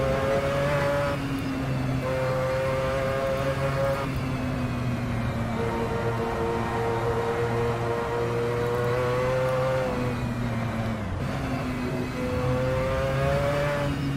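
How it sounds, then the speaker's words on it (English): Loud, continuous engine drone of a Mazda 787B rotary race car in the racing game Assetto Corsa, a buzzing tone with rich harmonics that rises and falls with gear changes as the car laps the track, no talk. "I wasn't able to quite hear that because of how loud this car is."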